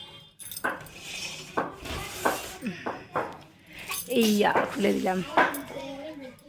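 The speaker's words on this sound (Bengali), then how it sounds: "চলো পর্দাগুলো আগে খুলে দিই।" Curtains pulled open at home, giving a run of light metallic clinks and rattles in quick clusters, with a voice heard nearby.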